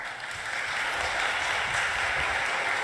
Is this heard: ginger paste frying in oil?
no